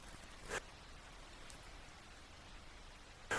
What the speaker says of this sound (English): Rain is just water.